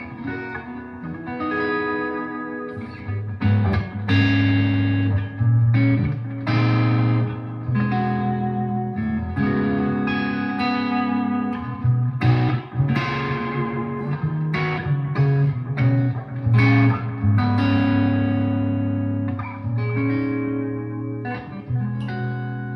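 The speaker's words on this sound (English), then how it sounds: "So we're still on the just clean crunch." Washburn N4 Davies electric guitar with upgraded pickups played on a clean crunch setting, loud strummed chords and riffs with some reverb, continuous and alone with no voices.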